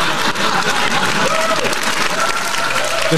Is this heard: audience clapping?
yes